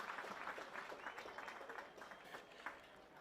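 A crowd applauds a 20-year-old race winner at a New Year's Eve cycling carnival in Burnie, with steady, dense clapping held at a moderate, even level for a few seconds.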